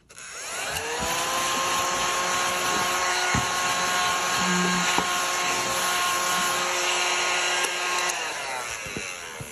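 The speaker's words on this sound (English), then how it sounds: "Let's get the vacuum out." A vacuum cleaner drones steadily at close range, its motor whine holding even for several seconds before cutting off near the end.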